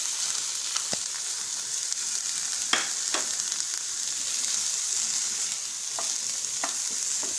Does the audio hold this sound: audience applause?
no